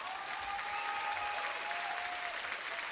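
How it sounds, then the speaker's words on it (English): Steady applause from a crowd, continuous and fairly loud throughout with no voices standing out. "applause for me doing a thing?"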